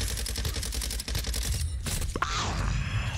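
Rapid bursts of SMG fire from Call of Duty Modern Warfare 2, with tight repeating shots in quick rhythm, a short pause, then a sharp crack followed by a swooping high sweep.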